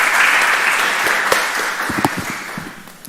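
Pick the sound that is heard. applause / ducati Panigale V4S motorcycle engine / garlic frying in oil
applause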